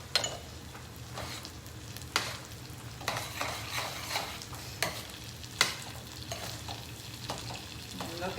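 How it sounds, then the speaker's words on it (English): Creamy Alfredo sauce stirred into prawns and bucatini in a Saladmaster pan, with steady close scraping stir strokes over a gentle sizzle and occasional sharper knocks of the utensil, no talking. "Now we're ready to add that sauce."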